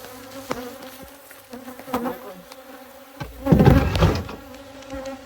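Honey bees buzz around hive boxes, a close, continuous drone that swells loudly as bees pass near, with a few sharp knocks in between.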